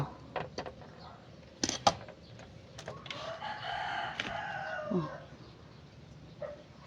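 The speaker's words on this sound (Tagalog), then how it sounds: "Diyan po, maraming manok." A rooster crows once, fairly close, its long wavering call standing out over faint background noise and a few scattered knocks.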